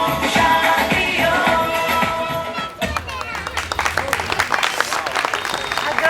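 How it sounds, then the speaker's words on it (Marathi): An audience claps loudly for child performers at a stage event, dense applause that starts over music and continues as a crowd of many hands, close and sustained. "सगळ्यांनी जोरदार टाळ्या द्यायच्या आहेत पुन्हा एकदा या बाल कलाकारांसाठी"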